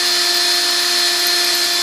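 A power drill drilling into a wall whines at a steady high pitch, close and loud, its motor tone unchanging throughout the short burst.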